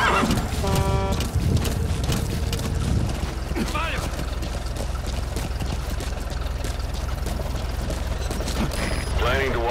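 Horse neighing and clip-clopping hooves from the Metal Gear Solid V: The Phantom Pain video game, a whinny at the start followed by steady hoofbeats, loud and close over a dense game soundscape with music.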